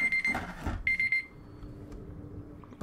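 An alarm clock-style timer rings in two short bursts of bright, steady beeping, loud and close, with a video game's ambient sound underneath and no voices.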